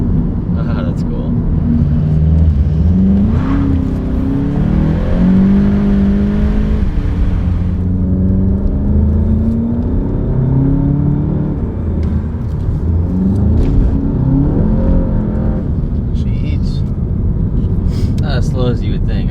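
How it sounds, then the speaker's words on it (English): Volkswagen GTI with a DSG gearbox and aftermarket intake and turbo inlet accelerating, engine tone climbing through several gears with a short flutter at each shift, a steady loud rumble heard from inside the car. "Has a little bit of flutter on the shifts with the DSG."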